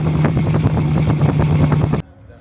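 Exhaust note of a 1934 Duesenberg Model J, a steady, smooth, loud engine rumble with a pulsing rhythm, heard close and alone before cutting off abruptly near the end.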